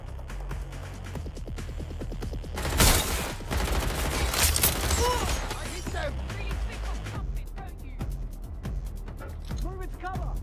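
Sustained gunfire in the video game Watch Dogs Legion, with rapid rattling bursts, a loud volley around the middle and more shots continuing under shouted voices.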